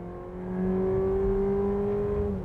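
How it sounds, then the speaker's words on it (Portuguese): A Volkswagen Nivus GTS in sport mode on 18-inch wheels accelerates hard, its engine note rising steadily and holding a strong, close, even drone before easing off, with no voices over it. "quando você coloca o carro no modo esporte e acelera o carro um pouco mais"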